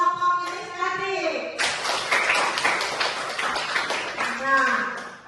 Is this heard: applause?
yes